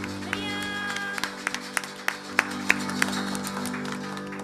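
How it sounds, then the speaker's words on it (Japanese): Worshippers at a charismatic church gathering in Nagasaki give scattered applause, with sharp individual claps over a sustained organ-like musical drone and a little talking in the background. "もう一度ご臨在の瞬間に拍手を捧げましょう"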